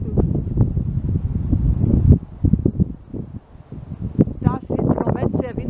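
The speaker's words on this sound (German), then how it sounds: "Da es jetzt im Moment sehr windig ist" Strong gusty wind buffets the microphone in loud rumbling bursts on La Palma, with brief quieter lulls and some rustling.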